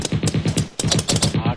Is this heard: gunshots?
yes